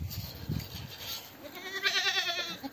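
Goats bleat on a farm, several wavering, nasal calls overlapping close by, with shuffling and other farmyard noise beneath them.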